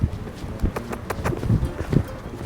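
Horse hooves striking the ground as the animal moves in circles during a training session, a series of irregular dull thuds under faint outdoor ambience.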